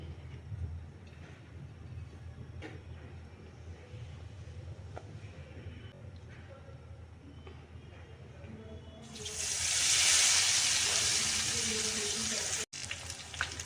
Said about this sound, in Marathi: ह्या सारण भरलेल्या मिरच्या बेसन पिठात टाकून आपण तळून घेऊया